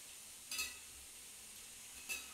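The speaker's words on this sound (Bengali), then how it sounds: "এগুলো একই সাথে ভাজা হয়ে যাবে।" Sliced potatoes with capsicum and a little hot water fry in a pan, giving a steady, faint sizzle broken by two brief utensil stirs and clinks.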